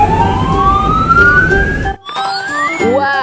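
A toy ambulance siren wails loudly up close, its electronic tone sweeping upward and then switching to a faster warbling pattern.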